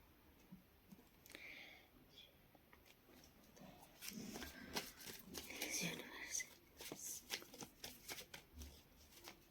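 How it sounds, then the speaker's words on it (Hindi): Tarot cards are shuffled by hand in a quiet room: soft, irregular riffling and clicking bursts that grow busier midway, with faint murmured speech underneath. "मैं कार्ड सफल कर रही हूँ"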